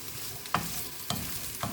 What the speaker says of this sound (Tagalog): magisa tayo ng carrots